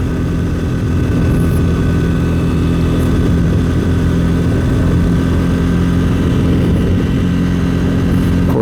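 A Triumph Speed 400 motorcycle cruising at about 45 in fifth gear, its engine a steady, loud, low drone mixed with wind rush, with no voice over it.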